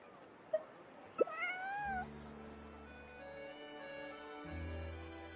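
A cat in Genshin Impact gives two short meows followed by a longer rising and falling meow, close and clear, and a low soft tone drones beneath it.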